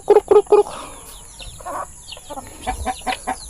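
Chickens cluck and chirp while pecking at black soldier fly larvae, a burst of three loud close clucks at the start followed by scattered softer clucks and calls.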